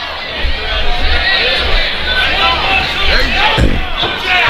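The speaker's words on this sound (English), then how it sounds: "Crowd getting a little restless for the lack of action." Spectators at a Fight Lab MMA event fill the arena with a continuous babble of shouts and chatter, moderately loud and restless, with nearby voices talking over it.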